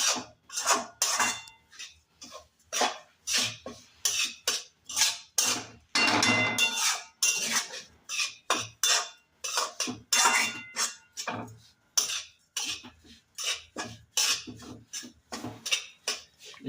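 A spatula repeatedly scrapes and clatters against a hot wok while stirring fried coconut after the gas is switched off, loud rhythmic metallic strokes close up, steady for the whole stretch.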